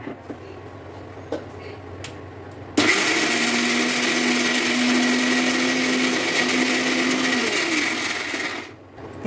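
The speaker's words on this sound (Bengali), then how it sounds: "আর ডালটা ভিজে গেছে, এবার ডালটা আমি পেস্ট করে নেব।" An electric blender whirs loudly, grinding soaked chana dal into a fine paste for kachori, starting abruptly after a few quiet clinks, running steadily for about six seconds, then winding down.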